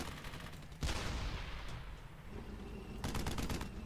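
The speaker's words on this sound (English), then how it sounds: "That means that's a German machine gun." German machine gun in Brothers in Arms: Hell's Highway, a sharp distant burst followed by a decaying echo, then a second rapid burst of shots near the end, moderately faint.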